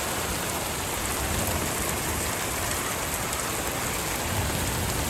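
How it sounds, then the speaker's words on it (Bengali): Heavy rain pours down during a power outage in the USA, a dense, steady roar of drops on surfaces that stays loud and unbroken throughout, with no talk. "কীভাবে বৃষ্টি হচ্ছে।"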